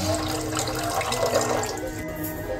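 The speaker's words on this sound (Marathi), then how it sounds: "त्याच्यात थोडंसं पाणी टाकूया." Water poured into an onion and tomato puree in a cooking pan, a steady splashing, running pour that stays fairly even and close throughout, with no talk over it.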